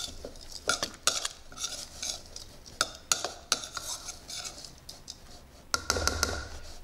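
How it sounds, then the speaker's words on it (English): A spoon stirs ground pecans in a bowl close up, with a quiet scraping swish broken by a series of sharp clinks and taps of utensil against the dish in an irregular rhythm. "Well, let's mix those together."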